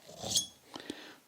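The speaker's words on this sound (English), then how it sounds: "now I should be able to pull out the venturis" A metal venturi is pulled free from an MGB GT carburetor, giving a bright clink followed by two short, close knocks of metal on metal.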